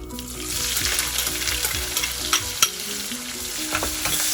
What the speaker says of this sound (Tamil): இப்போ நல்லா அது ப்ரௌன் ஆகிட்டு இருக்க டைமில் நம்ம வெங்காயத்தை போடலாம்